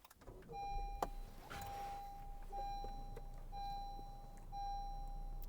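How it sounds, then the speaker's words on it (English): A grey 2017 Honda CR-V LX AWD wakes up on push-button start, a soft engine rumble under a repeating electronic chime that sounds in regular pulses inside the cabin. "And this vehicle is push button start, so we'll start it up."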